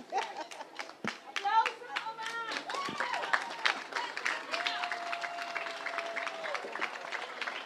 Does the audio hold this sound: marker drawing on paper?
no